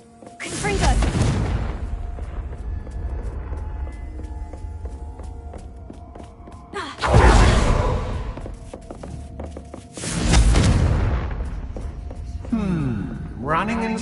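Confringo blasting curses go off in Hogwarts Legacy as three loud explosive bursts, near the start and twice in the second half, each with a rumbling tail, amid footsteps and game ambience, with a voice heard between them.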